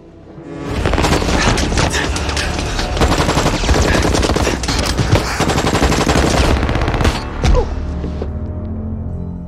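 Intense gunfire with rapid bursts and heavy booms fills an action film shootout, loud and continuous, with dramatic music-like rumble underneath.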